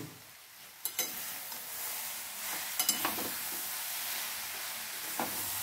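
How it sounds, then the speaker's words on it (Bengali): Mung dal with radish is stirred in a pan over a low, steady sizzle, with a few distinct scraping clatters of the spoon spaced out, fairly quiet and with no voices. "খুলে নিয়ে আবার একবার আমি ভালো করে নাড়িয়ে নেব"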